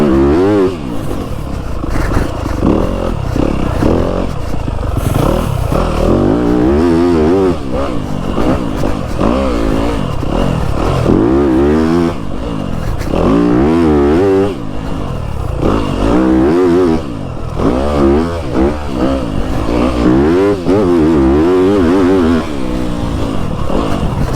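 A 2025 Yamaha YZ250FX dirt bike engine revs loudly and up close, its pitch climbing and falling again and again over a constant raspy idle.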